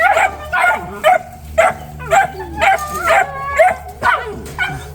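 Several puppies barking, yipping and whimpering close by in a repeated rhythm of short bursts, loud and busy, with a low steady hum underneath.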